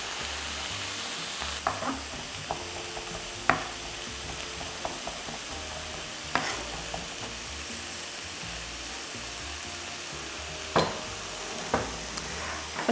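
Potatoes and vegetables fry on a camping stove in a pan for a tortilla, a steady close sizzle with crackling throughout, broken by a few sharp clinks and stirring knocks of a utensil against the pan.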